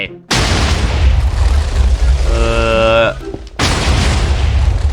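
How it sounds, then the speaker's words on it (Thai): Several Minecraft TNT blocks detonating at once, from a TNT mod with small mega TNT: a loud sustained rumbling blast fills the clip, a brief tonal chime rises near the end, then a second heavy boom follows a short gap. "เหมือนจะ ระเบิดพร้อมกันหลายๆ ครั้งนะครับ"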